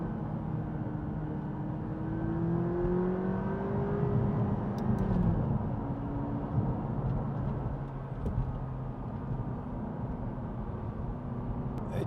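A 2016 McLaren 570GT drops to second gear and revs, engine pitch rising and falling as it accelerates, heard from inside the cabin.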